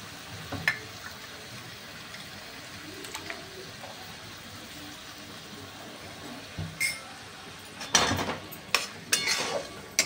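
A spoon scrapes and clinks in a pan as Bengali katla fish biryani masala gravy with whisked yogurt and water is stirred, quiet soft sizzling between a few louder metallic clatters near the end.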